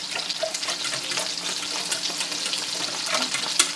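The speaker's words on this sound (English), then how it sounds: "we're going to stir that and incorporate it very well with the whisk" A whisk stirs a sauce for chicken fettuccine alfredo, giving a continuous close, busy swishing and bubbling with light scraping clicks against the pan and no voices.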